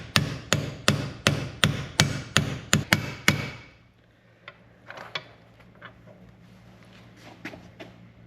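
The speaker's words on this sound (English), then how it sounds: "I'm just going to hammer it in to here." About ten sharp, evenly spaced metal hammer strikes in quick succession, driving a bearing in with a bearing tool on a Yamaha Rhino 660, then quieter scattered clinks and taps of tools.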